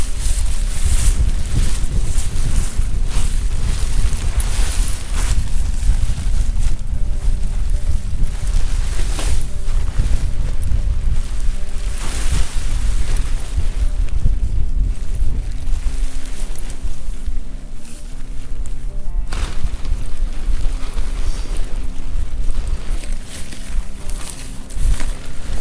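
Strong wind buffets the microphone and gusts around a Scarp 1 tent being pitched outdoors, a loud, continuous roar and rumble with surges throughout and no talk.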